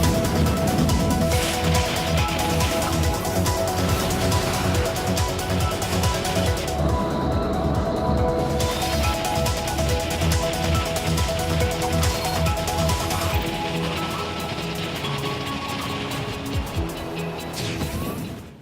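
Original soundtrack of the Redout anti-gravity racing video game, dense driving electronic music with a steady beat and layered tones, loud and continuous under racing effects for nearly twenty seconds.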